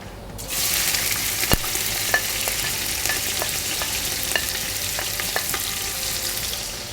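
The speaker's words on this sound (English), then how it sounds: "I'm going to start adding 2 onions inside" Two onions hit hot oil in a pot for murgh pilau, a loud sudden sizzle that holds steady while a wooden spoon clacks and scrapes against the pot several times.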